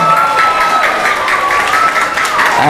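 A group of Muslim children applaud together at the close of an Islamic lesson, loud continuous clapping with crowd noise over a steady high tone, lasting the whole few seconds.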